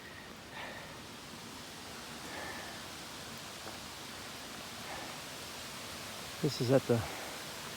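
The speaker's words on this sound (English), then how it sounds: "I'm standing on the dam, and I'm at the spillway." Water rushing over a dam spillway at Lake Lurleen State Park, a steady, broad roar of falling water running beneath everything, with a few words of speech near the end.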